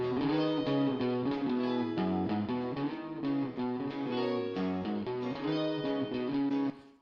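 A mixed band track from a rock album session with reverb added, full and sustained with guitars and a steady rhythm playing without pause, then cutting off abruptly near the end.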